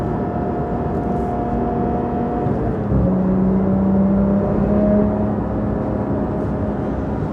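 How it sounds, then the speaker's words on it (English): Porsche 992 GT3 Touring fitted with a full Dundon titanium exhaust, driven on the street: a steady engine drone under cabin noise, with pitch shifting partway through and a rise in level near the middle, no talk. "the Dundon exhaust, it's the way to go"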